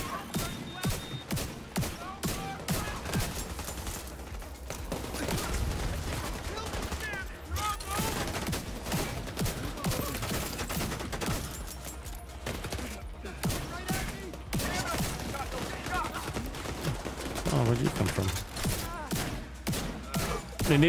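Bursts of automatic gunfire and shooting from The Division 2, a dense and continuous exchange of rapid shots and impacts that carries on loudly for the whole stretch, with some talk mixed in under it.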